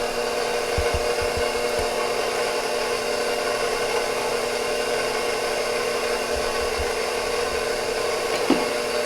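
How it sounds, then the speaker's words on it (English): An electric mixer beating butter, eggs and liquid ingredients for refrigerator roll dough, giving a steady, loud motor whir that runs unbroken throughout, with a few faint clunks near the start. "So this is all of the liquid that is now in the mixer, and it's all mixed together"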